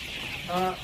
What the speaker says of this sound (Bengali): খেয়াল করেন মুরগিগুলো দেখেন একটু ভালো করে